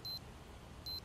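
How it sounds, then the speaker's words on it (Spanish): Beeping alarm in the zombie survival game Project Zomboid, heard as two bursts of high electronic ringing at the start and end with a low rumbling gap between them. "Esa maldita alarma siempre está sonando."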